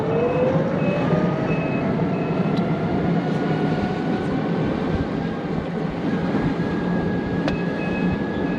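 A car reverses back toward the listener at a road junction, its reversing beeper pulsing in a steady repeated tone over constant loud traffic and engine rumble, with a rising whine of passing vehicles.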